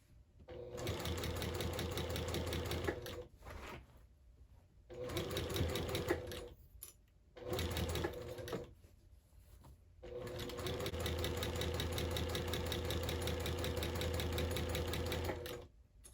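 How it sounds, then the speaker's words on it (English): A sewing machine backstitches and then sews along a quilt's edge, with close, loud motor whirring in long bursts broken by short pauses, the final run lasting about six seconds. "we're just gonna back stitch and start going"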